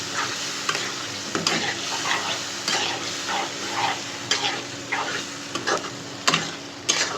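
Chicken skin and spices are stirred and fried in a zinc pan, giving a continuous soft sizzle broken by repeated scraping and clinking strokes of the spoon at an uneven rhythm.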